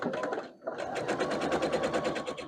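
A sewing machine runs steadily, stitching 2.5 inch fabric strips together for strip-pieced half square triangles, with a brief pause near the start before the rapid, even needle rhythm resumes up close.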